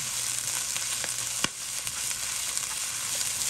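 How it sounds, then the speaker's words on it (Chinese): Garlic chives stir-fried in a little oil over high heat: a steady, close, bright sizzle with a few sharp scrapes and clicks of a spatula tossing the greens in the wok. "余热以后下入韭菜，我们开大火翻炒一会儿，炒出韭菜断生，炒出韭菜的香味儿"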